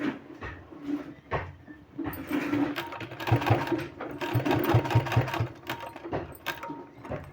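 A sewing machine stitches a sleeve design on fabric, running in short repeated bursts of rapid mechanical clatter with brief pauses between runs, close and steady throughout.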